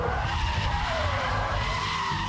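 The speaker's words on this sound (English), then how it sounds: "Grab the handbrake." Loud continuous tyre skid from a BMW Z3 swung into a handbrake turn at about 70 mph on an airfield runway, a broad steady screech under engine noise, brief and with no talk.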